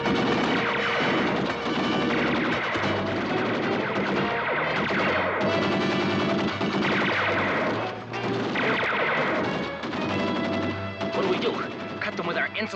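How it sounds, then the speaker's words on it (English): Continuous gunfire and crashing impacts mixed with music and voices, loud and dense throughout, from a 1960s Batman TV episode. "Let's advance our bat shield through this deadly gunfire"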